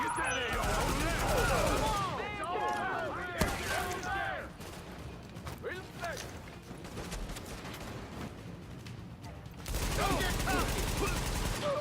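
Heavy gunfire in The Division, dense overlapping rifle and machine-gun bursts in a firefight, loudest at the start and end, with shouted voices mixed in.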